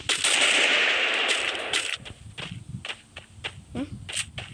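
Gunfire in the battle royale game Free Fire: a dense burst of rapid shots for about two seconds, followed by scattered single sharp cracks.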